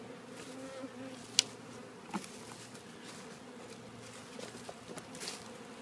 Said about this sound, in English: Zillions of bees in the air wondering where their hive went.